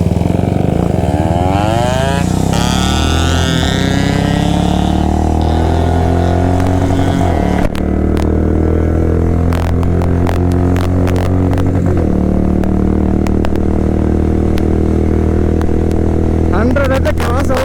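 A Yamaha RX135 motorcycle engine drones loud and close, its pitch climbing under hard throttle, with speech over it and sharp mechanical clatter in the second half.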